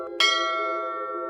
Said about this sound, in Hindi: मंदिर से घंटी की आवाज आ रही है।